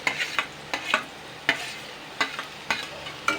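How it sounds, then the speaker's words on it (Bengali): Chopped onion and chicken feet fry in oil in a wok, a constant sizzle punctuated by sharp, regular scrapes and clanks of stirring, close and clear with no talk. "সবার প্রথমে কিন্তু দুইখানা বড় সাইজের পেঁয়াজ কুচানোটা আমি কিন্তু দিয়ে দিচ্ছি আর সঙ্গে পাগুলোও দিয়ে দিচ্ছি"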